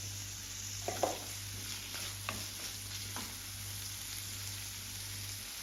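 Onions with ginger-garlic sautéing in a pan with salt for a Kerala kappa (tapioca) curry, a faint steady sizzle with a few soft spoon scrapes and taps, under a constant low hum.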